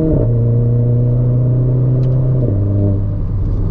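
Engine of a Renault Clio 4 RS Trophy accelerating hard, a loud steady in-car drone that rises in pitch, drops briefly at a gear change, then climbs again.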